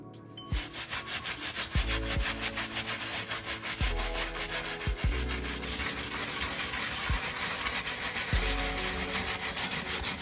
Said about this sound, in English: I'm going to use the medium texture brush to go ahead and start the cleaning.